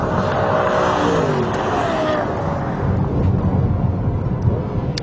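A Lexus LFA sports car engine roars and revs continuously, a rising mechanical whine over deep rumble, while someone talks over it.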